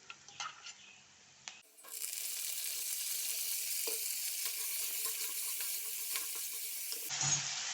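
White brinjal added to a hot pan for vangibath bursts into a loud, steady sizzle after a few faint clinks, frying continuously at close range until a soft clatter at the end.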